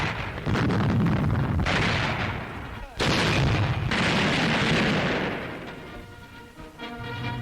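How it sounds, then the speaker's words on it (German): German tank guns fire on a British tank near Sollum in 1941 North Africa, a series of loud booming blasts with rumbling echoes on an old newsreel soundtrack. Heavy detonations come at about 0.5, 3 and 4 seconds, and music plays underneath. "Ein englischer Panzer ist gestellt und wird vernichtet."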